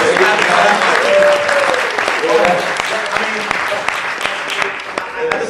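An audience at a battle rap event at Columbia University breaks into loud, sustained applause, dense clapping close by with some cheering mixed in throughout.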